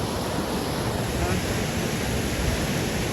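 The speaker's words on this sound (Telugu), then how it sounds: "అద్భుతంగా వస్తున్నాయి నీళ్ళు" Galiveedu waterfall pours down in a steady, dense roar of rushing water, close and loud, with no break or change throughout.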